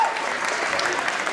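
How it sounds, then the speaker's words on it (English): An audience at a high school basketball game claps steadily, a dense, even wash of applause from a crowd that fills the whole moment without a break. "Can we please give them a round of applause?"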